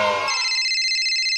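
A telephone rings in a children's police-themed skit, giving a short, loud electronic trill that follows a brief musical sting.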